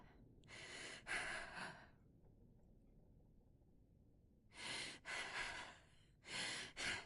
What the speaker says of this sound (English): And she has wheezing breath